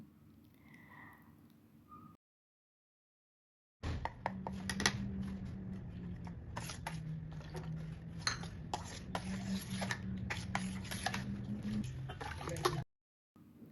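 A utensil repeatedly mashing cooked toor dal in a metal pot, producing steady soft squelching and clinking scrapes close by for about nine seconds, framed by brief quiet stretches.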